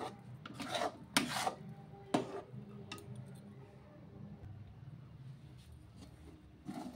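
Spatula scraping and rasping through a thick green pea mixture in a pan over low flame, with a few sharper scrapes early and a steady softer rubbing afterward, close and moderately loud with no talk.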